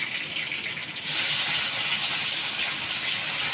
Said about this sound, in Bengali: পেঁয়াজগুলো ভাজা হোক